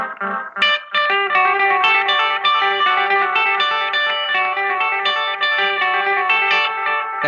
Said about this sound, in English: it's your initial signal getting recorded and then being played back and then played back and played back